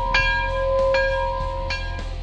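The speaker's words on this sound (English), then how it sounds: "Somebody ring the bell!" A bell rings with clear, ringing tones, struck about three times at a steady pace, each strike sustaining a bright hum beneath the next.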